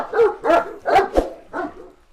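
A large Kangal dog barks several times, deep and loud, in uneven spaced woofs close by, with short pauses between barks.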